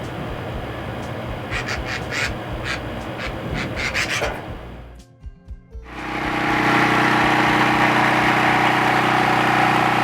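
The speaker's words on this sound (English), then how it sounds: "That's our generator. It's been a while since we ran that." Scraping and rasping give way to a brief lull, then a generator starts up and runs with a steady, loud mechanical hum.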